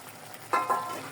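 Spices sizzle while being sautéed in a pan for coconut hilsa curry, two quick hissing bursts rising over a low background hiss.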